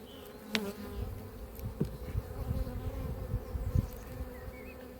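Honey bees buzzing at an opened hive in an apiary, a steady close hum with individual bees passing near, plus faint handling knocks and rustles.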